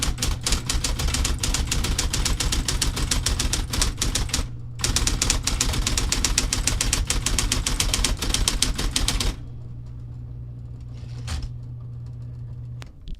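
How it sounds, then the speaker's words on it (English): A typewriter is hammered rapidly and close up, its dense clacking keystrokes running almost without pause and broken by one short gap. The typing then gives way to near quiet with a faint mechanical sound. "We like that typewriter level."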